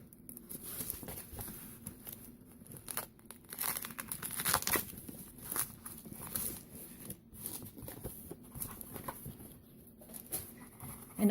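Burlap paper crinkles and rustles as it is handled during a scissors and sheath embellishment craft, with irregular close bursts of crumpling and tearing-like crackles against a quiet background.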